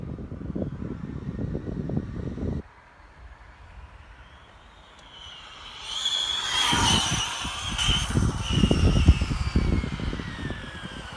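A Traxxas Slash 4x4 RC car on a 34-tooth pinion speed run makes a rising whine that builds from quiet, swells loudly past as it accelerates, then carries on with a rough, rumbling high-pitched motor tone.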